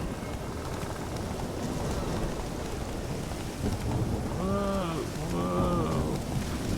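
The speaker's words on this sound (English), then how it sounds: "Why did it start raining all of a sudden?" Steady rain pours down, with low rumbling thunder, in a storm in the video game The Witcher 3: Wild Hunt. The sound is a continuous dense wash, and a voice speaks briefly over it near the end.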